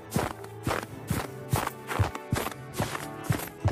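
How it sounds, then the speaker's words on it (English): Footsteps crunch across snow in the video game Fortnite, an even walking rhythm of about eight close, crisp steps heard alone. "These are all the snow footstep sounds, guys."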